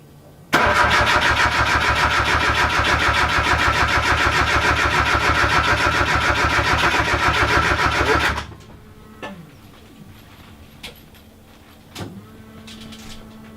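A Mazda Miata drift car's engine cranks and roars loudly for about eight seconds, then cuts off abruptly, leaving only faint clicks and quiet background noise.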